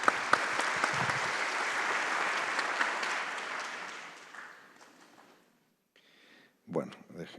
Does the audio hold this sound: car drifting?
no